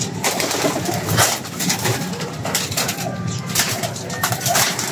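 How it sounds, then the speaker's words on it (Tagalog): Racing pigeons being loaded into a box for a derby race coo steadily and close by, a continuous soft cooing chorus with a little background noise. "ilalagay na natin yung ating mga ibon na isasampa sa karera"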